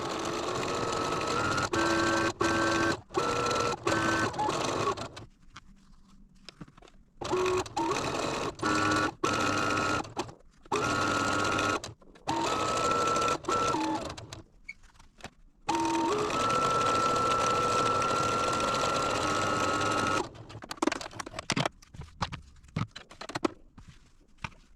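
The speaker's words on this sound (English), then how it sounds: "I'm going to take this over to the machine and do a scant 1/4 inch on each side of it" A sewing machine stitches a scant quarter-inch seam on quilt squares for half-square triangles, running in several bursts of steady whirring with brief pauses and clicks between them, close and moderately loud, with no talk.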